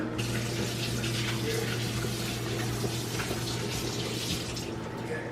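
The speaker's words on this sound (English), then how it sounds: "Then I just rinse out this pot." Tap water runs steadily into a cooking pot being rinsed, a continuous close splashing rush with a low hum underneath.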